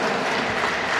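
A crowd at a food and hygiene kit handover ceremony applauding steadily, dense clapping throughout with no pauses.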